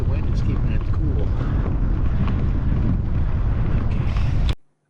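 Strong wind buffeting the microphone during a bike ride on a desert road in New Mexico, a loud continuous rumbling roar that cuts off abruptly at the end.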